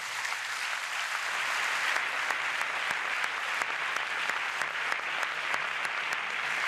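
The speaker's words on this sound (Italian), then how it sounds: "Lo possiamo ringraziare con un grande applauso" Steady, dense applause from a large audience after a lecture on architecture and democracy, sustained at an even level throughout with a few sharper claps standing out.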